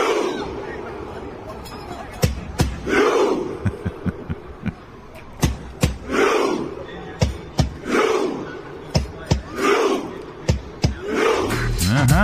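A large crowd rows in unison in Times Square, New York, with loud rhythmic group shouts rising about every second and a half, punctuated by sharp knocks and a steady babble of voices underneath.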